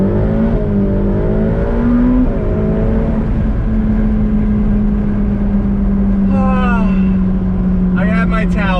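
A 2020 Ferrari F8 Tributo Spider convertible engine pulls hard under acceleration, its close, loud tone climbing and holding steady, with higher whining sweeps near the end.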